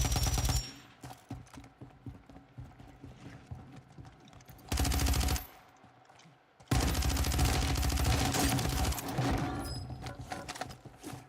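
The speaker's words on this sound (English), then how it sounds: "He's rocking that sniper rifle." Video game sniper rifle gunfire: loud sharp shots in bursts, with some rapid strings, set against steady game sound, with brief quieter gaps between the volleys.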